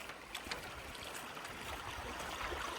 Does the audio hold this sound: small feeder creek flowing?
yes